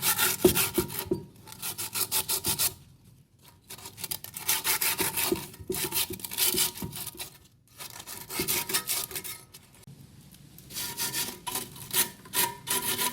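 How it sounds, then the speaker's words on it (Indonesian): Rusty steel plate of an old water pump scrubbed with a chisel or sandpaper, producing repeated rhythmic rasping strokes in bursts with short pauses, close and steady. "Kita gosok pakai tatah, atau bisa juga, pakai amplas, atau bahan yang kasar, kemudian kita gosokkan ke plat ini"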